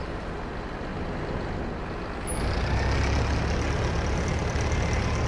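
A tractor engine reverses in a rice field at harvest time, a steady diesel rumble that swells louder and deeper partway through and then holds, close by, with no voices.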